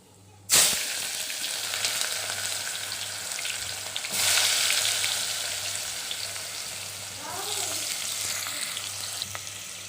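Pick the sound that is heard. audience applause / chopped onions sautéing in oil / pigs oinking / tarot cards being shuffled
chopped onions sautéing in oil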